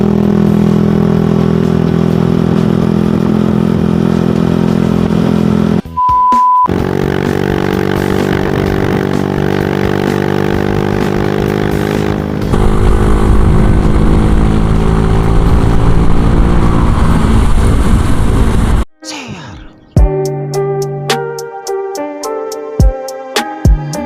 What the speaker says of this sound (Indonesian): Oke guys, jadi kali ini kita akan coba suara dari knalpot ZRC ya.